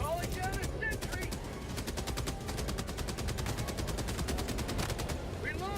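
Sentry turret in Helldivers 2 fires a long unbroken stream of rapid shots throughout, loud and close, with battle noise layered beneath.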